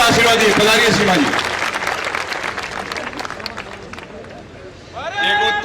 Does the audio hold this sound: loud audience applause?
yes